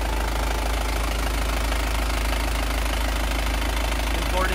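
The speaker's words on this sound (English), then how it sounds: "Diesel 4-cylinder engine." A Toyota Mega Cruiser with a diesel four-cylinder engine idling nearby, a steady low rumble with an even knocking pulse and no change in speed, while a voice talks over it.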